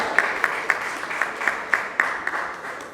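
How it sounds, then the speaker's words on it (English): An audience at a book launch claps, a thin scattering of hands in an indoor room, fairly steady and moderately loud over a few seconds, with no talk. "Please a round of applause for her."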